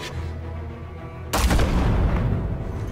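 A single loud gunshot in Batman: The Telltale Series strikes suddenly after a quiet stretch, followed by a booming, lingering reverberant tail.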